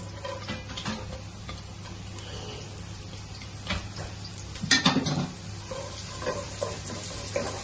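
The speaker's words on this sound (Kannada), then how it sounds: "ನಾನು ಬೆಳ್ಳುಳ್ಳಿ ಹಾಕ್ತಾ ಇದ್ದೇನೆ." Chopped garlic dropped into hot oil for a dal tadka, giving a soft continuous sizzle with scattered ticks and one brief louder clatter near the pan.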